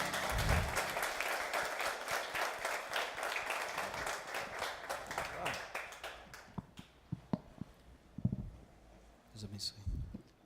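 Applause from a conference audience at an urban church event, welcoming a pastor to the stage: dense clapping for about six seconds that thins into scattered claps, followed by someone speaking.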